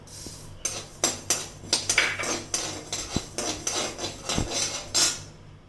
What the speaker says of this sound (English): let us dry roast all the ingredients that are required for the masala. First, let us start with dhania.